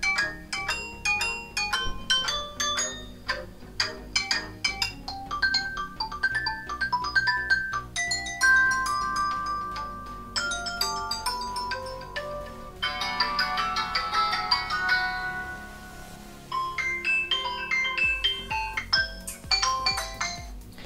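Xiaomi Redmi 9 phone plays a long ringtone melody through its mono speaker: bright, tinkling electronic notes in quick runs and chiming phrases, fairly loud and alone for about twenty seconds.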